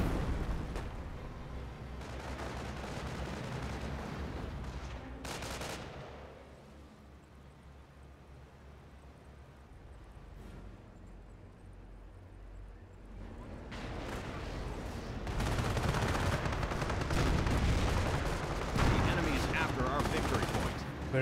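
Artillery barrage in the real-time strategy game Company of Heroes, a rumbling spread of distant booms and gunfire that swells, drops back to quieter battle noise, then surges loud again, with a commentator talking over it.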